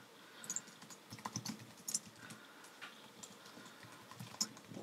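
Quiet, irregular clicks of a computer keyboard as code is typed, a soft patter of keystrokes with scattered sharper taps, no voices.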